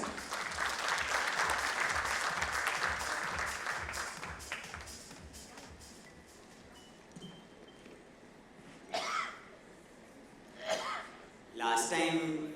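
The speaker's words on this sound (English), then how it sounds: "A round of applause, everyone out here." Audience applause at the inaugural session of a finance and insurance meet, a dense round of clapping that swells for several seconds and then fades to a quiet room, followed by a few short bursts of sound.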